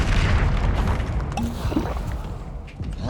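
A Confringo spell explosion in the Hogwarts Legacy video game, a dense rumbling boom with a crackling burst, loud and close, fading slightly over a few seconds.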